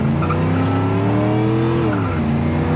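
A 1989 Camaro IROC Z28 burning rubber in second gear, its engine roaring loud and close with a rising then dropping pitch as the tires squeal continuously.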